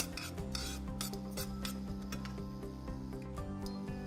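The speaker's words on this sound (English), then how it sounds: "Give it a stir once in a while." Utensil scraping and stirring food in a pan on a Smeg induction cooktop, a steady rasping rub repeated in quick strokes, close and fairly loud over a faint background hum.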